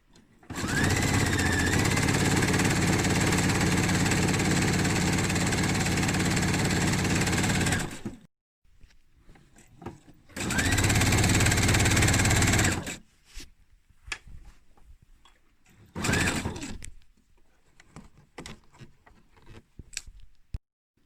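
A domestic sewing machine stitching and overlocking jacket fabric in one pass, running in long steady whirring bursts with pauses and short clicking stops between them.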